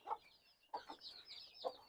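Young chicks about fifteen days old in a poultry coop give short, faint clucking and chirping calls in a few separate bursts, with no talk over them.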